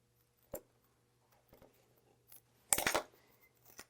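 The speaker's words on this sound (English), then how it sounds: "I'm going to take these little scissors and just make a little slice" Small scissors snip into Tear Easy embroidery stabilizer, then the sheet is torn along its perforations in a short, loud, crisp ripping burst, with light clicks before and after in a quiet room.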